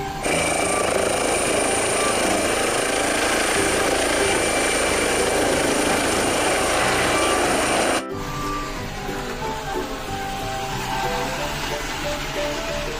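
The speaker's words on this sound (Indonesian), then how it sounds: "Ada helikopter." Toy helicopter whirring steadily and loudly with a buzzing, rattling drone for about eight seconds, then stopping abruptly, leaving a quieter mechanical hum with faint background sounds.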